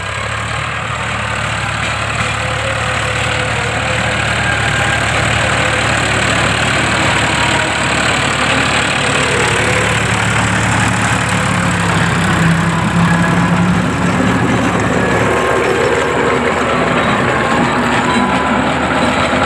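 A Sonalika tractor engine runs continuously while pulling a Shaktiman rotavator through a farm field, a loud, steady droning rumble with no pauses.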